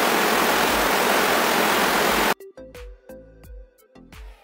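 Heavy rain pouring in a broad roaring wash for about two seconds, then cutting off abruptly to quieter scattered knocks and clatter, with no talk.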